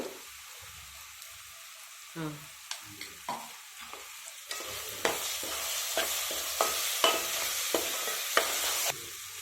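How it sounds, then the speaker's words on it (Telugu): Onions with ginger garlic paste fry in a pan while a spoon stirs, with repeated scraping clicks over a sizzle that grows louder in the second half. "ఇప్పుడు ఈ ఉల్లిపాయలు వేగిపోయినాయి కదా"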